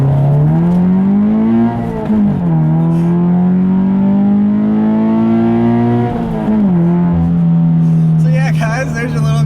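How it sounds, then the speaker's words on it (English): A Subaru BRZ accelerates hard with a steady rising engine tone, one smooth gear change shifting the pitch before it climbs again, heard close and loud from inside the car. "I'll leave you with a nice little acceleration here like I always do."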